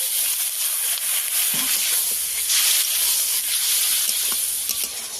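Curry for a Bengali fish, potato and eggplant dish cooking down with a little water in a pan, giving a steady close hiss and sizzle throughout with a few faint pops and no talking.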